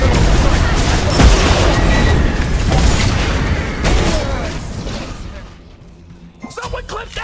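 A phoenix tower collapsing in the Smite video game during a 3v3 Joust match, heard as a loud rumbling burst of crashes and booms that fades over several seconds, followed by brief game announcer voice sounds.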